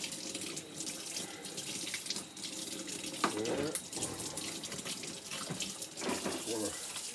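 A kitchen tap runs water over seafood being rinsed before a boil, giving a steady splashing stream with louder surges as the food is moved under it and a brief spoken word.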